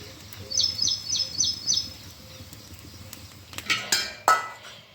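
Metal pots and small puja utensils, including oil-lamp dishes, are scrubbed and rinsed at home, with scattered clinks and scraping that sharpen into a few louder knocks near the end, while a bird chirps in a short run early on.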